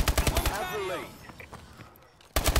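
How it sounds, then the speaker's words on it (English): Rapid automatic gunfire from the video game Call of Duty: Advanced Warfare during a team deathmatch, with bursts at the start and again at the end and a quieter gap in between. "I hear people shooting every oop"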